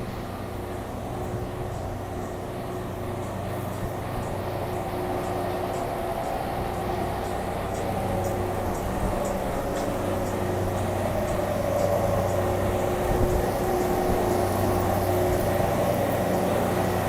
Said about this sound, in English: there's a fucking loud truck.